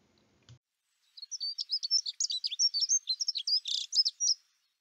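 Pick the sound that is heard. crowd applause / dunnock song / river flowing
dunnock song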